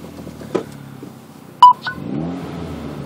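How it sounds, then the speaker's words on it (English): A 2013 Hyundai Veloster Turbo with a custom Magnaflow exhaust cranks and fires up, then settles into a low, steady idle around 800 RPM, heard close with a couple of short clicks and beeps. "right now I've just started the engine. We're under 1000 RPM, hovering about 800 RPM."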